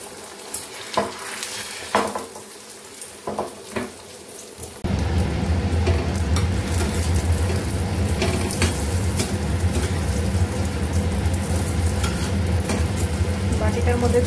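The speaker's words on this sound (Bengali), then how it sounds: "দুটো ডিম নিয়ে এখানে অমলেট করে খাই" Two eggs are stirred and then fried for an omelette. A few scraping stirs come first, then a loud, steady sizzle of frying fills the rest of the clip with no talk.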